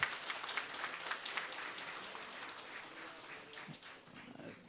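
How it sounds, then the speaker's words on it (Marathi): Audience applause at a Marathi business fair event, a steady wash of clapping filling the hall for several seconds, fading slightly toward the end. "या टाळ्या वाजवायला पाहिजेत आपण"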